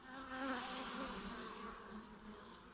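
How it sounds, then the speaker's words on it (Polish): A dense, steady buzzing of many honeybees and drones swarming close by at a hive, droning continuously with no voices. "Pszczół, jak widać, jest dosyć. Tutaj trutnie wszędzie."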